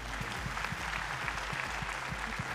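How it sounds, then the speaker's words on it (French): An audience at a charity gala applauds its sponsors, giving a dense, continuous round of clapping over a low hum in a large hall. "Cuisine Élite, on peut les applaudir."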